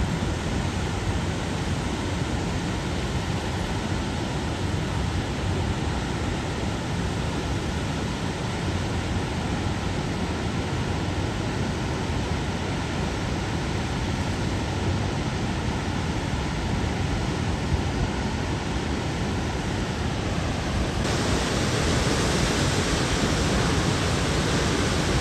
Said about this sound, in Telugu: ఇది ఇక్కడ వాటర్ ఫాల్ అద్భుతమైన అంతే